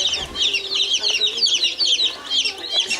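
Day-old baby chicks at home peep constantly in high, chirping trills, close by and fairly loud, with no talk over them.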